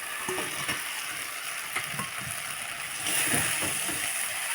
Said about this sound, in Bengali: এবারে দিয়ে দেবো যে মাছ ফোটা আমি ভেজে রেখেছিলাম সেগুলো